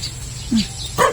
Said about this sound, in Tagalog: Ayun po, may, may aso pa po dito.